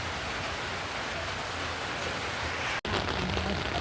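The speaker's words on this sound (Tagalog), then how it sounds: "Umuulan-ulan na naman" Steady rain hiss pours down without letup, a dense even patter close by, briefly cut by a momentary dropout.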